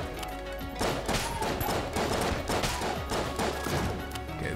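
Rapid bursts of cartoonish gunfire from the top-down shooter Enter the Gungeon, a dense fusillade of repeated shots in quick rhythm, loud and close, with no voices.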